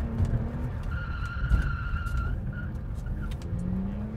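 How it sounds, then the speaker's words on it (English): A car drifts through a turn on a handbrake entry, its tyres squealing in a sustained skid over the droning engine, moderately loud and with no talking. "pull the handbrake up, steer left, get it to counter steer, and power through the turn"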